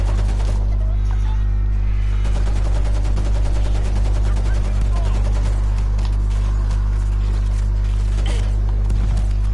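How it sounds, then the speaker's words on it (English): Rapid automatic gunfire from a teammate in the zombie shooter World War Z rattles continuously, loud and close, over a steady low hum, with occasional talk mixed in. "Why is my teammate shooting me?"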